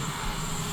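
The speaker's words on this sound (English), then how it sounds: "I guess it's the helicopter in the background." A helicopter engine hums in the background as a steady, even drone throughout.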